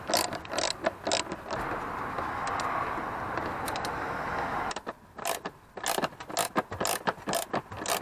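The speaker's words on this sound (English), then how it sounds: "You need to undo 6 7mm bolts" Ratchet wrench working 7mm bolts loose on a Ford Ka air filter housing, a run of rapid mechanical clicking bursts at close range, with a steadier whirring stretch in the middle and no talk.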